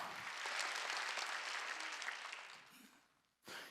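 A church congregation applauds loudly and steadily during a Wednesday worship sermon, sustained clapping that fades out near the end before a brief fresh burst.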